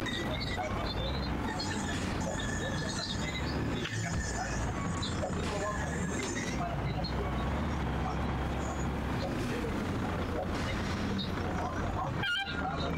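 Geese honk in a video game, blocking a path, heard within a dense, loud game soundscape with vehicle rumble and voices talking over it.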